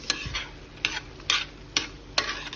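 Pasta with vegetables is mixed in a hot pan, giving five sharp spoon scrapes at a steady pace over a soft background sizzle, close up.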